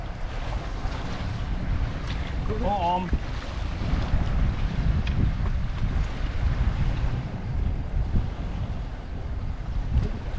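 Strong wind buffeting the microphone over rough, rushing water at a bridge, a loud constant roar throughout, with a brief exclamation from a voice partway through.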